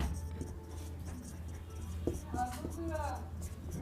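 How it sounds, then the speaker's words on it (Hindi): Marker or chalk writing a sentence on a board, soft scratchy strokes beneath a steady hum, with a person talking over it. "तो मान लीजिए कोई एक सेंटेंस लिखते हैं, जैसे मोहिनी"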